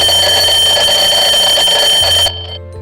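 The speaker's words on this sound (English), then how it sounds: "You're reminded of that every morning when the alarm clock goes off." An alarm clock rings loud and continuous with a bright, shrill tone for about two seconds, then cuts off abruptly and leaves a brief fading tail.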